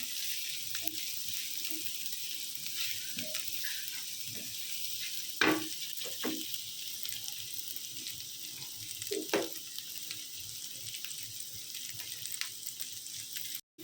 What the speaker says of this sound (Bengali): কিছুক্ষণ ভেজে নেওয়ার পর এই যে দু তিনটা মরিচ অ্যাড করে দিলাম